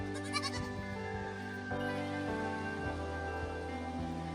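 Goats in a pen bleat in a brief burst of wavering cries, moderately close, over a steady tonal hum from the surroundings, with no speech.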